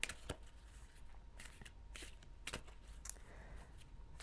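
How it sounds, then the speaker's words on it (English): Large tarot cards being shuffled by hand, quiet papery riffles and slaps in irregular bursts, close and soft with no talk. "Quite big cards these are actually to shuffle."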